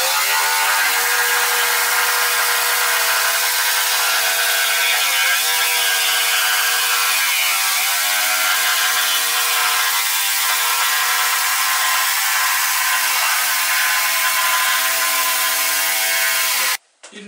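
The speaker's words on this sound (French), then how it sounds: "Je les scie avec la scie sauteuse." A jigsaw cuts steadily through wood slices for a small model boat, a loud continuous buzzing saw with slight pitch shifts as it works, alone for the whole stretch before stopping abruptly at the end.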